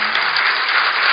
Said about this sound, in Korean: 하나님께 영광의 박수요.